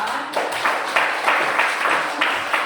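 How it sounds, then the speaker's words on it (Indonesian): Students in a classroom applaud a presenting group, with bursty, uneven clapping from several pairs of hands at moderate level, rising and falling in loose waves. "berikan tepuk tangan untuk kelompok 5"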